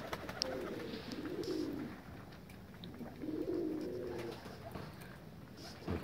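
Pigeons coo softly in two drawn-out phrases, heard at a middle distance outdoors beside a garden, with faint background rustle and no talk.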